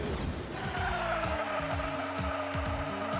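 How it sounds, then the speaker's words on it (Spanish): Tires skid as a toy-style race car drifts through a corner in Hot Wheels Unleashed 2, a sustained squeal over a steady engine drone, loud and continuous throughout. "¡Qué pedazo de derrapito he hecho ahí, eh!"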